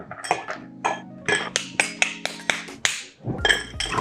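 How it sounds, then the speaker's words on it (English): Ice clinking and rattling against glass as a Vesper Martini of Russian vodka and gin is stirred, a series of bright knocks and chinks in an uneven rhythm, close and clear with no talk. "Give it a stir."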